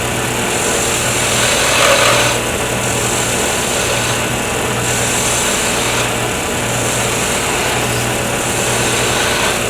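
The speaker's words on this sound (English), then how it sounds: "these are all planing cuts, but they're very light" A wood lathe spins steadily while light planing cuts are taken on a pen blank, giving a continuous whirring hum with a faint hiss that swells and dips slightly over the ten seconds, with no talking.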